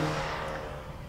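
A 2019 BMW X2 M35i turbocharged engine holds a loud, steady revving drone close by, its tone easing slightly over a brief moment; no distinct pops or bangs stand out.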